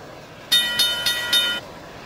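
Train sound with four distinct loud bursts of a bright tonal horn or whistle-like blast in quick succession, standing out alone over quiet background.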